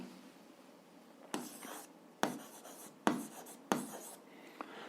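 A pen or chalk writes out an algebra solution in several short scratchy strokes separated by brief pauses, close and quiet, with no voices.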